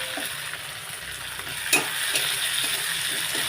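Onion frying in a pan with chopped tomato and green chilli added, a dense continuous sizzle with soft scraping stirs and one brief clatter, close up and without voices.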